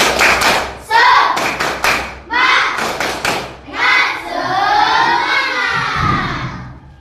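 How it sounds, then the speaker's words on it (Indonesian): Schoolchildren in a classroom perform the tepuk semangat clapping chant, sharp claps in quick rhythmic bursts mixed with loud chanted voices, ending in a sustained group shout. "Coba semuanya, tepuk semangat."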